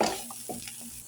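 Spiced chicken and onions are stirred in a hot pan, giving a brief, close scrape of the spoon over a low sizzle, with no voices.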